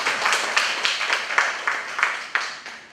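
Symposium audience applauding with a moderate, steady wash of clapping that continues throughout, heard at some distance.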